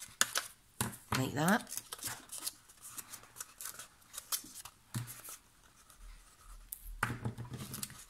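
Scissors snip paper down to size for a gift treat box, giving several short crisp cuts spaced irregularly. Light handling noises come and go, and a person talks quietly between the cuts.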